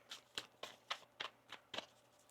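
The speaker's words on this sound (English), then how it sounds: "One more shuffle here." Tarot cards being shuffled by hand, seven or eight quick crisp riffling bursts in a steady rhythm, close and fairly soft.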